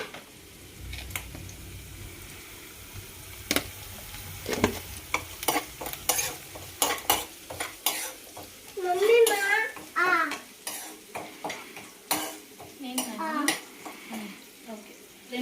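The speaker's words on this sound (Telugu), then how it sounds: "ఇలా కొంచెం తొందరగా ఫ్రై అవ్వాలంటే కొంచెం సాల్ట్ వేసుకుందాం, సో దట్ మనకి తొందరగా ఫ్రై అవుతాయి." Spicy Telangana-style chicken fries in a pan, with a quiet sizzle and repeated metallic scrapes and clinks of stirring, close by, while a voice talks over the later part.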